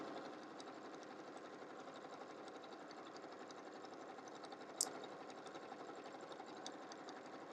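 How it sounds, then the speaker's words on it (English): A home sewing machine without a walking foot stitches through the layers of a mini quilt's binding, a steady rapid mechanical whir with even needle clatter and one brief sharp click partway through. "this machine is just sewing all these layers like nothing"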